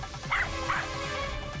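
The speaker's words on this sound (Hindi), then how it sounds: "इस इमारत के सामने शेरू खड़े होकर भौंक रहा है" Dog named Sheru barking in front of a building, two short high barks in quick succession over a low steady background hum, fairly close.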